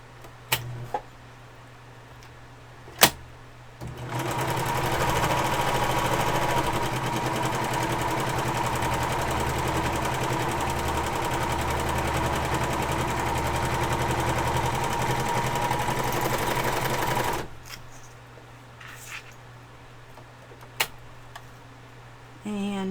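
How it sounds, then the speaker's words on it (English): A serger overlock machine trims and stitches a fabric edge for a journal cover, running in one steady loud whirring burst of about thirteen seconds, with a few clicks and quiet handling before and after. "I'm going to just serge that whole edge"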